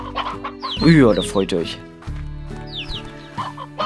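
Chickens and roosters clucking in the video game Slime Rancher, with several short animated clucks layered under someone speaking German.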